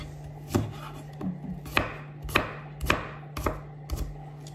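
Knife chopping apples on a cutting board for an apple cake: six to seven crisp, evenly spaced chops, each sharp and close, over a faint steady kitchen hum.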